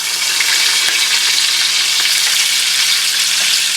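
Ginger garlic paste fries in hot oil with cloves, black cardamom, black peppercorns and cinnamon stick, giving a loud, steady, dense sizzle close up, with a few faint stirring knocks.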